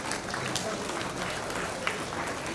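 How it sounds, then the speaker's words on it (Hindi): Audience at a government appointment-letter ceremony hosted by the Jharkhand chief minister claps continuously, a dense, even wash of applause throughout, with a faint voice briefly audible beneath it. "ये श्री तालियों में कमी बिल्कुल नहीं होनी चाहिए।"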